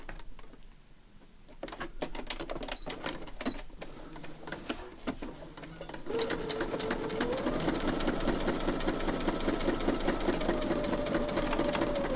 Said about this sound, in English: So I'm just going to stitch along there.